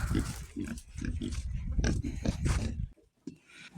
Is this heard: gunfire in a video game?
no